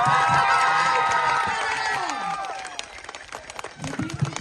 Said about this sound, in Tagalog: Malakas na palakpakan, sigawan mo!